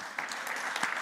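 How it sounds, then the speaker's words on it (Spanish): A conference audience at Digital Bank Bogotá 2019 claps as a presenter takes the stage, a short, fairly quiet burst of applause with a few sharper individual claps standing out. "Un gran aplauso."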